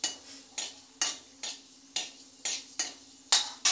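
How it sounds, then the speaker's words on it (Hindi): Spices roasting in a pan for a curry are stirred with a utensil in sharp, regular scrapes and clinks about every half second, close and clear over a soft background sizzle. "इसको अच्छे से भून जाने देंगे।"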